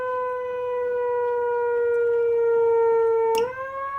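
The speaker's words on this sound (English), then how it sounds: "the old Shark+alarm sirens used to be attached to a lot of the surf clubs years ago" A manually operated shark alarm siren of the kind once mounted on Australian surf clubs holds a steady wailing tone, then dips sharply near the end as it winds down, loud and close with no talk.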